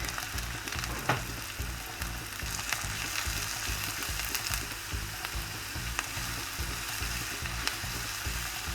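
Garlic sizzles with onions and rice in olive oil in a soup stock pot, a steady loud frying crackle with no talk.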